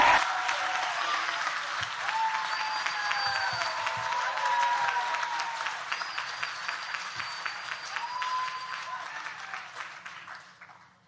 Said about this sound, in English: Every one of these kids deserves to have a round of applause.